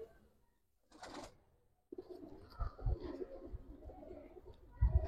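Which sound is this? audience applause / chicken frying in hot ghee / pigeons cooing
pigeons cooing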